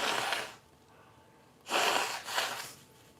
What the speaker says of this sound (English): Can I just please blow my nose for a second?